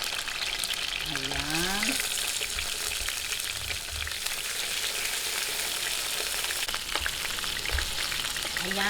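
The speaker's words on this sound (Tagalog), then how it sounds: "ngayon po, ipiprito po natin to" Chicken pieces fry in a pan with a constant bright sizzle and crackle, close by, while someone speaks briefly over it and a few utensil clinks come through.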